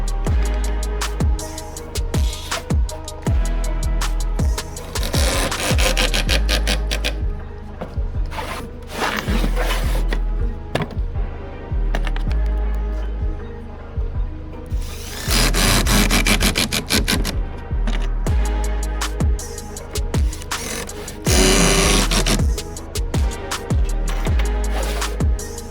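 Screws being driven into wooden legs of an outdoor table, heard as long stretches of loud, close power driver whirring that come in bursts, with short scraping and knocking sounds in between and no talking.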